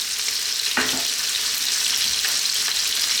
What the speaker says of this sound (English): At this point we're going to add in our onions, sliced onions.